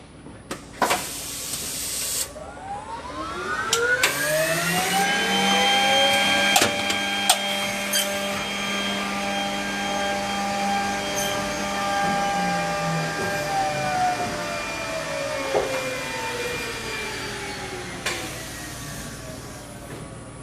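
A Holz-Her Lumina edgebanding machine in eco mode spins its motors up together with a rising whine, runs at a steady hum with a sharp mechanical knock partway through, then winds down, all without voices.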